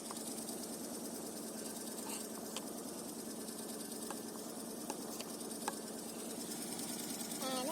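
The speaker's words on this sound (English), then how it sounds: "start up the engine." A steady low mechanical hum runs continuously, a Range Rover P38 engine idling nearby, with faint clicks and ticks scattered over it.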